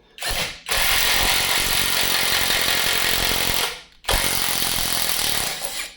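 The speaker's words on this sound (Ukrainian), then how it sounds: "ось цим закручувати гвинти це саме то" A GTM impact driver drives screws with two long, loud hammering bursts, separated by a brief pause, then cuts off and starts a short third burst, all close by.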